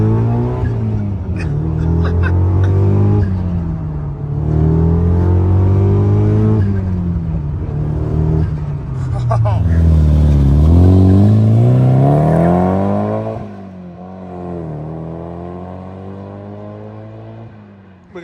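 A loud Subaru Hawkeye STI pulls hard through the gears, its engine climbing in pitch through several rising sweeps with an audible turbo whine over the rumble, heard from inside the cabin, and the revs ease off near the end.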